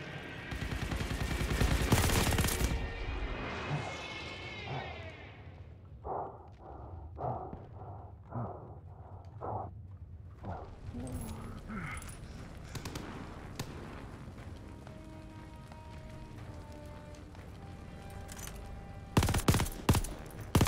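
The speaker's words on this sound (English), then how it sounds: "Keep shooting at it!" Heavy gunfire in the Call of Duty Vanguard Tobruk campaign: loud bursts open the clip, then a spaced series of single shots, scattered combat noise, and a final close burst.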